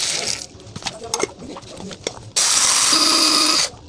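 An electric grinder grinding spices into powder lets out a loud, buzzing whir lasting just over a second, starting abruptly and cutting off sharply after a stretch of quieter handling noises and talk.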